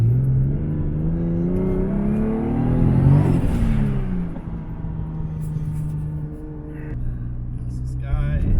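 Heard from inside, a 700-horsepower Toyota Mark II Tourer V JZX90 on a road in Mexico revs and accelerates, its engine note climbing loud through the gears with a shift and a quieter cruise, while someone talks over it.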